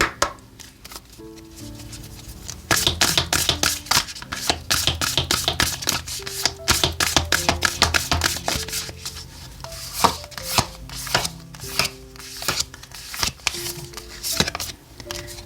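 Oracle cards being shuffled by hand for a tarot reading: a dense run of quick papery riffles and taps with soft slides between them, close and fairly loud, while soft background music plays.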